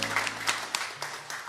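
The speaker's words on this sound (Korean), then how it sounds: "주님께 영광의 박수를 드립니다" A church congregation applauds at a Korean Sunday service in a short burst of scattered, uneven clapping with a few louder individual claps.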